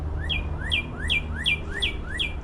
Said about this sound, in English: What kind of bird that is.